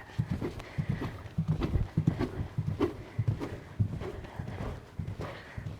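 A thoroughbred horse ridden in a canter, its hooves thudding in a steady rolling three-beat rhythm, close and moderately loud, with faint breathing and tack noise behind.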